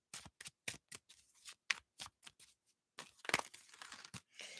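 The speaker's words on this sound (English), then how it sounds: "And there's that sloppy shuffle" A deck of tarot cards riffled and shuffled in quick, crisp bursts of papery flapping and snapping, close up, with brief pauses between shuffles.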